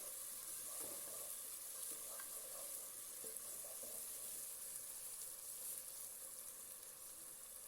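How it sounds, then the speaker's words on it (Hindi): Onion with frozen ginger garlic paste frying in a pan, a steady soft sizzle that holds evenly throughout, fairly quiet with faint occasional stirring and no voices. "हम अदरक लहसुन का पेस्ट, वो भी फ्रोज़न है हमारे पास, वो डाल देंगे और इसको थोड़ा फ्राई होने देंगे"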